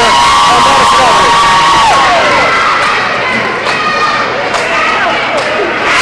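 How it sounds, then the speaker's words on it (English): A packed high-school basketball gym at Madison Prep roars with sustained crowd cheering, shouting and scattered clapping, loud and continuous throughout, with voices blending into the din. "people are standing, people are clapping, people are cheering"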